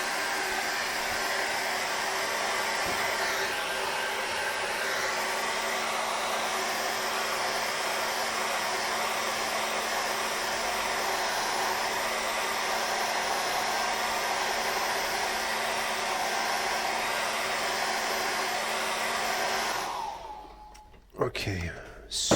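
A hair dryer blows a steady, loud whooshing drone for about twenty seconds while drying acrylic paint on a seascape painting, then switches off abruptly, leaving a few faint handling sounds.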